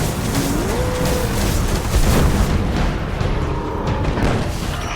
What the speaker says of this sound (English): Today we're delivering explosions.